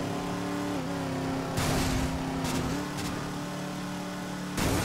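A muscle car's engine revs loudly and steadily in the Midnight Club 3 racing game, with rising gear changes and surges of throttle roar in a rainy race.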